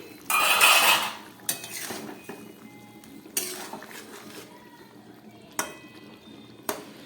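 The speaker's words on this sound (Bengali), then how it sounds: "ঢাকা খুলছি" A metal lid lifted off a pot of simmering potatoes with drumstick and poppy seed paste, giving a loud clattering burst followed by a few sharp clinks of metal on metal over a quiet kitchen.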